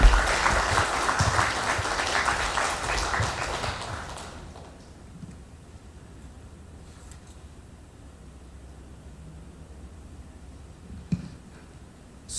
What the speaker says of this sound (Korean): 나오실 때 힘찬 박수로 맞이해 주시기 바랍니다.